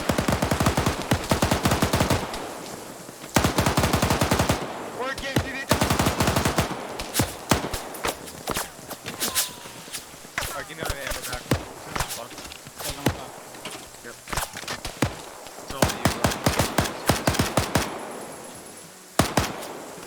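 Machine gun fire in a military video game, rapid bursts and sustained rattling volleys with scattered single shots, loud and close, while a voice talks over the action throughout.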